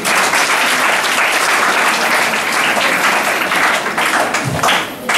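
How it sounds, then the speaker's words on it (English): Loud, sustained applause from a crowd, steady clapping filling the whole stretch with no voices standing out. "So I think we need to clap for them."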